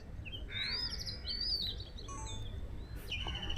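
A bird at Colva Beach in Goa gives several thin, rising chirps and whistles close by, over a steady low rumble of wind or surf.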